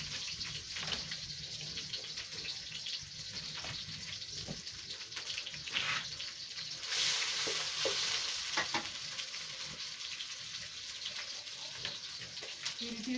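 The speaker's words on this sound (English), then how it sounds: "we are frying the cabbage because it doesn't need any boiling" Onions and cabbage frying in a pan give a soft, steady sizzle with occasional stirring scrapes, faint and close throughout.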